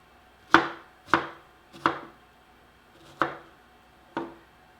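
A knife cuts strawberries on a board with five crisp, close chops at a steady, unhurried pace and short quiet gaps between them. No one talks.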